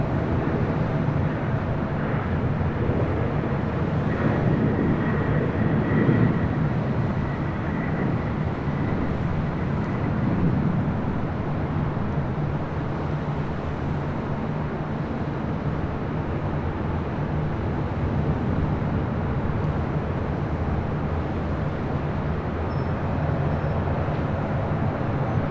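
A Virgin airliner departing LAX for London Heathrow, its jet engines giving a steady, broad rumble that holds at an even level throughout without any clear peak or fade.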